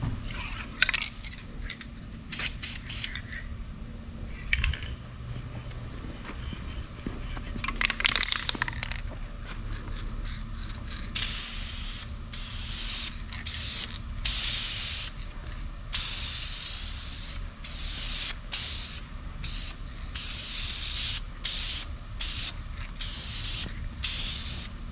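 Bursts of aerosol spray paint hiss close by onto metal mini bike parts, short blasts and longer sprays repeating with brief pauses, plus occasional clinks and rattles of a can.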